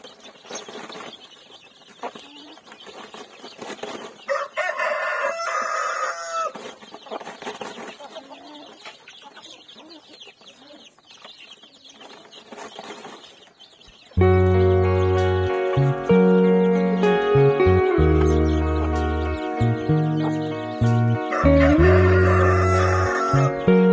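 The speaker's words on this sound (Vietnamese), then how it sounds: "cho những con gà con tinh chuồng ăn ha, ít mối này cho có dưỡng chất mối" Chicks and chickens in a coop peep and cluck while being fed termites. Scattered calls come first, then a louder, sustained stretch of tonal calling takes over near and constant.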